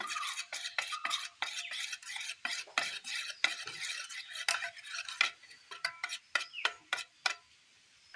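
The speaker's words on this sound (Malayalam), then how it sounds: "വെല്ലം ഉരുക്കിയ പാനി ഒഴിച്ചു കൊടുക്കാം. മിക്സ് ചെയ്യാം." A spoon stirs melted jaggery syrup into unniyappam batter in a bowl, making rapid close scraping and clinking strokes in an uneven rhythm that slows and thins out toward the end.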